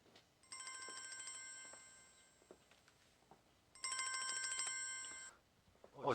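A telephone rings in two bursts of electronic trilling with a pause between them, fairly quiet, alone with no talk.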